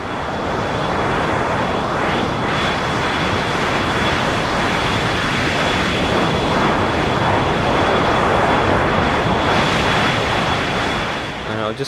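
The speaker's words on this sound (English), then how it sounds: "look at the turbulent exhaust sound, which is like a very strong, unpredictable whooshing sound" Synthesized turbulent airplane-exhaust whoosh, a dense, roaring rush of noise that swells and surges unpredictably for the whole stretch, with a faint steady high whine running through it.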